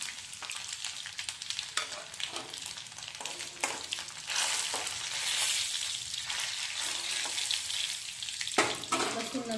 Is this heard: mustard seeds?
yes